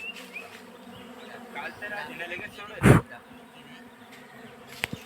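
Honey bees hum around a wild hive in Ratnagiri, Konkan, in a continuous low buzz close by, with a sudden loud burst midway as something brushes near.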